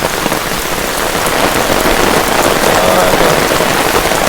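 Heavy rain pours steadily on a surface, a dense, loud, unbroken hiss with scattered drops throughout and no voices.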